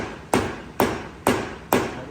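Four sharp hammer whacks hit a Jeep part while a boot is being fitted, evenly spaced about half a second apart, each a loud, close metallic strike with a short ringing decay.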